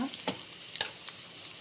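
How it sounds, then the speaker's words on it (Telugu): Ginger-garlic paste and turmeric frying in a pan for tomato rice, a soft steady sizzle with a few sharp stirring scrapes, close and fairly quiet. "కొంచెం అల్లం వెల్లిపాయ పేస్ట్, కొద్దిగా పసుపు, కొంచెం పచ్చి వాసన పోయేంతవరకు కొంచెం ఫ్రై చేసుకొని"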